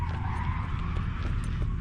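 Motocross vehicles skidding and revving at night at a beach motocross club in Jebel Ali, a steady distant engine drone with repeated tire skids across the whole stretch.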